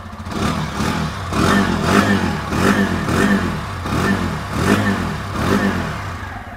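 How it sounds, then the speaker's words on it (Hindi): Close-up revving of a TVS Apache race edition motorcycle: a steady idle broken by a regular series of about seven throttle blips, each swelling and dropping back, loud and alone. "अब रेस एडिशन वाले का साउंड सुनते हैं कि ये कैसा मिल रहा है आपको"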